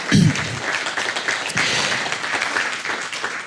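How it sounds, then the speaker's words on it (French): An audience at the opening conference of a nuclear engineering training course at a school applauds the director, a dense, steady wash of many hands clapping that fills the hall for a few seconds. "Oui, vous pouvez l'applaudir."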